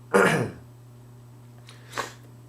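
A sharp, breathy nasal sniff up close, followed by a quieter second sniff after a pause, over a faint steady hum.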